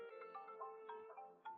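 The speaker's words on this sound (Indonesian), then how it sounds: "Ini telepon dari Paman Han." A phone rings with an incoming call, giving a melodic electronic ringtone of short rising and falling tones that repeat softly and fairly faintly, with no voices over it.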